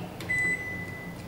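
A microwave oven's control panel gives a single clear electronic beep as its clock button is pressed, over a faint steady hum.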